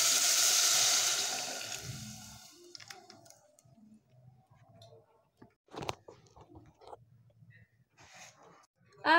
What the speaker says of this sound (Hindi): अब क्या करते हैं, हम इस पर पानी डाल देते हैं।